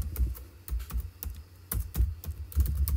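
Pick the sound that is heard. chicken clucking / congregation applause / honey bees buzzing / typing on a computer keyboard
typing on a computer keyboard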